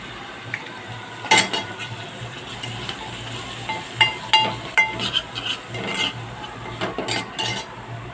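Asafoetida dropped into hot oil gives a soft sizzle beneath scattered clinks and stirring scrapes of a spoon against a pan, with sharper metallic taps toward the end.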